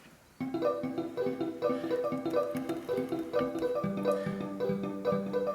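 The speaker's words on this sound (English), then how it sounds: "I'm going to play the marimba like I did earlier" A bright marimba sample plays a bouncy repeating pattern of mallet notes, moderately loud and steady, with no voices.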